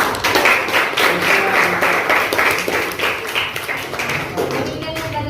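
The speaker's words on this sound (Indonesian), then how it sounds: "Mungkin bisa berikan aplaus kepada Deborah." Students in a classroom clap for a classmate, steady applause from a small group lasting several seconds, close and fairly loud, with a few voices underneath.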